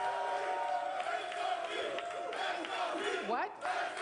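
A live basketball crowd at a Miami Heat playoff game chants in a dense, continuous roar, the massed voices sustained and fairly distant under the arena's reverberation.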